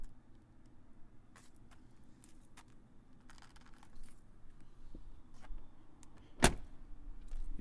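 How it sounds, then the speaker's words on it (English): A 1-owner, all-original Chevrolet S10 pickup with 71k miles has its door shut softly with a muffled thud near the end, inside a quiet, low-humming space with faint handling noises before it. "You notice how quiet that door was when it shut?"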